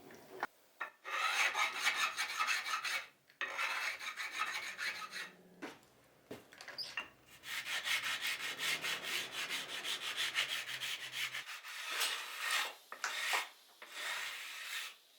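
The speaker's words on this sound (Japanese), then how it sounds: "最後ヤスリでこれを落としていきます" A rasp files wood in long, steady rhythmic strokes, a coarse scraping repeated over and over with brief pauses between passes, close and fairly loud, no voices.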